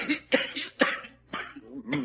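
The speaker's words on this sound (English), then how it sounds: "He's got a bad cough." A man coughs in a radio drama: several harsh, close coughing bursts come in quick succession, each sharp and throaty, with short gaps between them and no speech.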